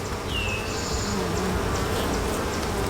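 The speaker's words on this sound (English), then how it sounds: "there's a lot of bees in there" Dense, steady hum of many worker bees buzzing inside an open hive, close and continuous throughout with no talk.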